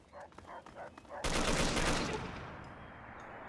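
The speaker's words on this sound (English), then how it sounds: "Just everyone getting shot by the freaking Chinese." A sudden loud burst of rapid gunfire erupts in Fallout 3, sustained for about a second before fading into a lingering roar, after a short stretch of quieter voice-like sound.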